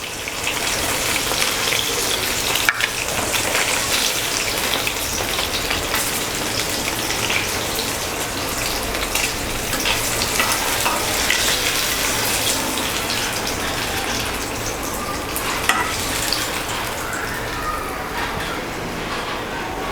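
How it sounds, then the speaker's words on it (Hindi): Bombil fish coated in rawa frying in hot oil, a steady loud sizzle and crackle holding continuously throughout, close up. "तो यहाँ पर अच्छे से फ्राई हो चुकी है हमारी बोम्बिल मच्छी"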